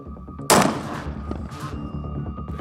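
A man-portable cannon-type weapon fires in a sci-fi action film: a sudden, loud close blast with a long rumbling tail, then a fainter second burst, over a low background drone.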